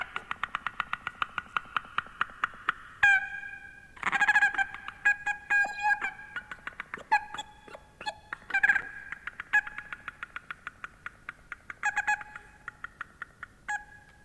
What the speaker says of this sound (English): these strange little reed machines, these duck calls